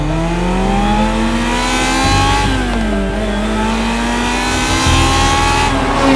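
A Ferrari F355 engine revs hard toward 8,500 RPM, a loud, sustained high-pitched wail climbing in pitch, dipping briefly as gears shift, then rising again continuously at close range.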